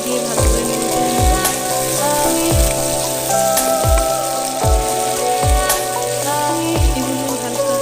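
Vegetables for Chinese-style fried rice tossed in a hot pan, a loud constant sizzle punctuated by regular dull thumps of a spatula roughly every second, close up with no voices.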